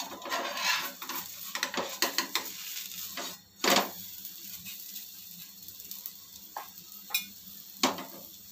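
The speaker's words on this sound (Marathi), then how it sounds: "हे बघा, पटकन होतो. आपण पलटी मारून घेऊया." An upvas (fasting-style) masala dosa cooks on a pan and is flipped. A faint sizzle sits under several spatula scrapes and clicks, with one louder clatter partway through. No one speaks.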